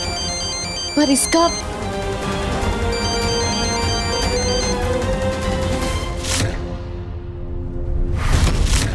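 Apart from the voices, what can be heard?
phone ringtone ringing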